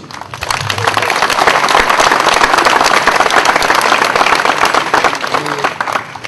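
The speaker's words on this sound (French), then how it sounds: "M. Primoulier, que nous pouvons applaudir aussi" Audience applause at the inauguration of the Ghjuseppu Nicolai cultural centre, loud close clapping that builds quickly, holds strong, then tapers near the end, with faint voices mixed in.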